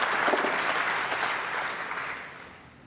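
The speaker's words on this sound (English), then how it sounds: "Great stuff from Jimmy, the crowd responding" A snooker arena crowd at the 2017 Welsh Open applauds a break by Jimmy White, giving a dense round of clapping that starts full and slowly tapers off.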